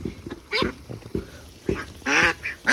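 Ducks on a duck farm in Assam give loud, close, honking quacks in short bursts, several calls overlapping in quick succession with brief pauses between.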